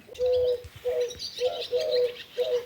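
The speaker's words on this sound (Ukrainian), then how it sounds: "Ластівки щебечуть і ще вдома. Голуби обзиваються, сороки десь скрикучуть." Pigeons coo in the morning, a series of five soft, steady calls close by, while swallows chirp and twitter in the background between them.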